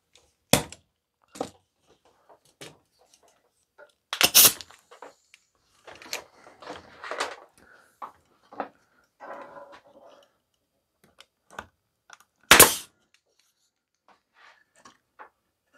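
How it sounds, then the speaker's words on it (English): A stapler drives staples into wood while a step stool is being built, giving sharp isolated snaps spaced irregularly, with a few loud hits standing out among softer taps and knocks, close by and without speech. "I'm going to put a staple in here to hold that for me."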